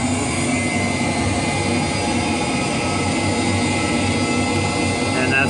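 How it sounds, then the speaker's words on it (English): The left jet engine of a CRJ700 spools up in a flight simulator game, a steady, loud, dense roar that holds at the same level throughout with no talking. "start that left engine, go down here to our controls. You can see that firing up."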